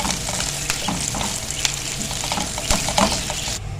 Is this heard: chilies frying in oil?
yes